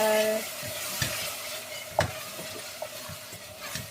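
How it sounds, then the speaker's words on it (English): A bell pepper and tomato curry base sizzles steadily in a pan while a utensil stirs it, with a few sharp scrapes and knocks against the pan over the frying hiss. "give it a good stir"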